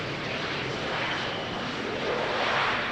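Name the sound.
KLM Cityhopper Embraer jet vacating the runway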